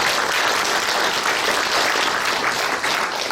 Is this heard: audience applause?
yes